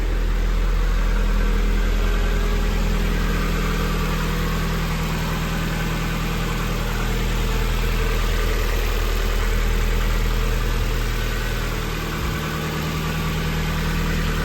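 A hot-wired Mazda Miata NB runs at a steady idle, its engine humming and vibrating loudly and evenly up close, with a brief low thump near the end and no voices.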